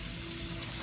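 Warm tap water runs steadily into a sink in a short, quiet, continuous stream with no pauses.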